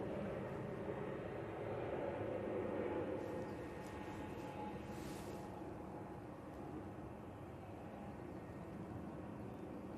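An ATR turboprop takes off at Manchester Airport as a low, distant, steady engine rumble that swells slightly and then holds. No one talks over it.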